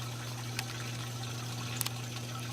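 Soft, steady trickle of water returning into a hydroponic tomato reservoir over a low mechanical hum, with a couple of faint drips.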